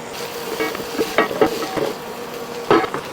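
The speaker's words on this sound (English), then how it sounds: "the smell of that sausage and onions together cooking down" Sausage and caramelizing onions sizzle in a pan at a tailgate cook, a steady close frying hiss broken by several sharp spatter bursts and a few clinks of utensils, with no talking.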